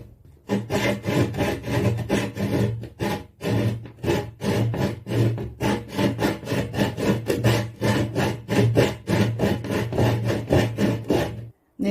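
A hand saw cuts through wood along a heart-shaped line, in rapid regular back-and-forth rasping strokes, close and loud, with brief pauses between runs of strokes.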